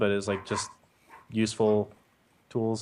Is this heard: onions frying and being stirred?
no